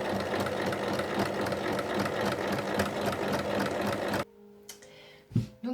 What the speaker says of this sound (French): on pique donc sur toute la longueur 1 cm du bord